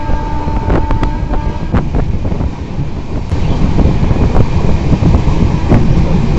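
Loud rumbling of a moving train with heavy wind buffeting the microphone and a few sharp clanks along the way.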